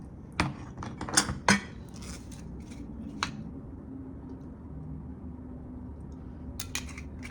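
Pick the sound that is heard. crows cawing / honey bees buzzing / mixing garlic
mixing garlic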